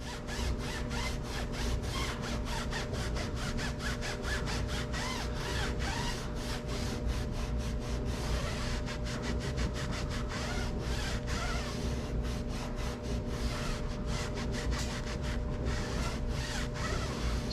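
Silica-based tire dressing is pressed and worked into a car tire by hand, a continuous close rubbing and scrubbing with rapid repeated strokes over a steady background, no talk.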